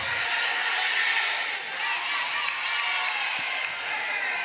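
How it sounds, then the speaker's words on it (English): A crowd at a high school volleyball match cheers and claps steadily in a gym, a dense sustained roar with a few sharp squeaks and claps standing out. "Then the crowd involved again. Yep. Crowd has not gone away. Good to hear them."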